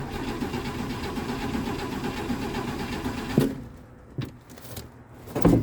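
A 1958 AMC Rambler engine runs rough after a carburetor swap, a steady mid-pitched idle with uneven pulsing that suddenly drops away, followed by a few isolated clunks and sputters.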